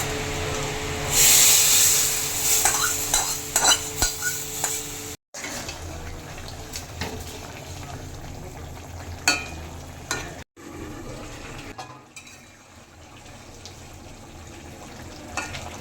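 Radhuni, whole cumin, bay leaf and dried chilli crackle in hot oil for tempering fish curry, a close sizzle with stirring clinks and short breaks, louder at first and then settling lower.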